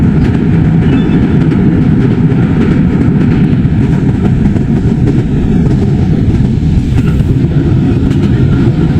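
A special train with automatic doors running on the Dhaka to Cox's Bazar railway, a loud, steady, dense rumble of wheels and carriages heard close up from on board.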